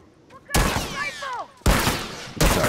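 Gunfire in The Last of Us Remastered multiplayer: three sharp, loud sniper-style shots with reverberating tails, evenly spaced over a few seconds, with a brief whistling, descending effect after the first.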